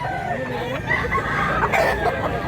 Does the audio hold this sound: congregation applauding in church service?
no